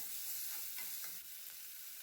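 Onion and chana dal sautéing in a pan for rava idli, a faint, even frying hiss with a few soft stirring scrapes, quiet and steady.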